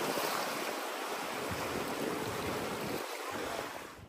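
Sea waves washing against a small rocky shore on the Konkan coast make a continuous, close surf wash, mixed with gusty wind on the microphone that fades slightly near the end. No one speaks.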